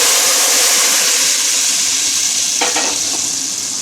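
Loud, steady sizzling of red chili tempering in hot oil, close up, with a brief clatter of stirring near the end.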